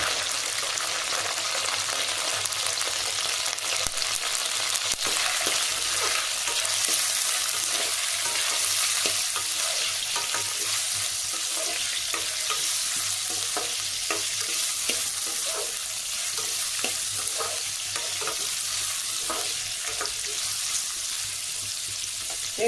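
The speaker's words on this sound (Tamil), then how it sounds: "இப்போ நம்ம வெங்காயத்தை போட்டுக்கலாம்" Onions frying in a cumin tempering for sambar, a loud, continuous crackling sizzle with faint spoon scrapes and stirring, close to the pan and unbroken by talk.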